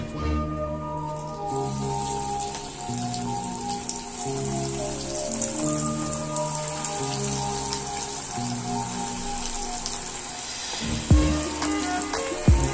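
Sabudana fingers fry in hot oil with a steady, dense crackling sizzle like light rain, continuing throughout beneath tonal background music.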